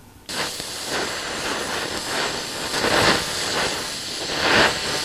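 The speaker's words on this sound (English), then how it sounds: "now I'm going to gas weld it" A gas welding torch hisses steadily while 3/32 RG45 welding rod joins 1/8 inch steel pieces to a 1/2 inch rod for a lawn sculpture. The loud, even rush starts abruptly and swells slightly in places.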